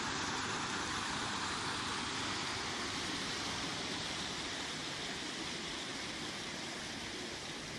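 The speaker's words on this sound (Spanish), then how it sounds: "ya estáis viendo una cascadita de agua muy bonita" Small cascade in a water circuit at María Luisa Park, Seville, giving a steady, full rushing splash that runs evenly and continuously, fairly close, with no voices.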